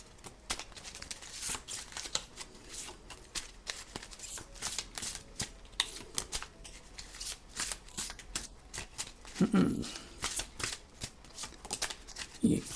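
Tarot cards are shuffled and drawn by hand, with close crisp riffling and flicking bursts, soft slaps and papery rustles, and a voice speaking intermittently underneath.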